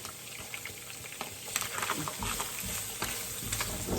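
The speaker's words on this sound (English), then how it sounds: "I have one whole yellow onion diced. I'm gonna add that in." Diced yellow onion frying in a pan for a marinara sauce, a soft steady sizzle with crackling pops that grows slightly denser after it settles into the oil.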